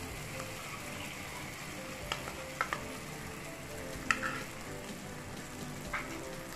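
Ground spice paste of turmeric and powdered spices sizzles in hot oil while being stirred into Bengali niramish bhoger khichuri, a steady soft crackle with a few sharper spatters and utensil scrapes, close and continuous.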